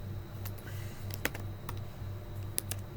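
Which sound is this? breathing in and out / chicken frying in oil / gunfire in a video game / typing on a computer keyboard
typing on a computer keyboard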